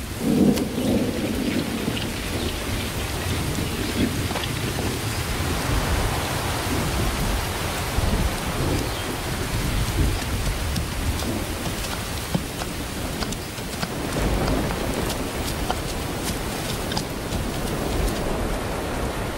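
Heavy monsoon rain pours steadily in India while thunder rumbles and rolls in the background, loud and continuous with no voices.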